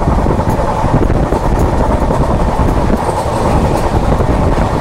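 A fast-moving passenger train on the Vellore to Howrah route rumbles loudly along the rails, steady and close, with a continuous clattering roar throughout.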